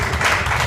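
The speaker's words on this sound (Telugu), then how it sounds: "గట్టిగా చప్పట్లు కొట్టండి" A church congregation claps loudly at a pastor's urging, a dense, steady patter of many hands filling a short burst with no talk over it.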